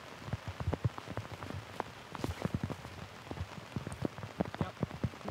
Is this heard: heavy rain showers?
yes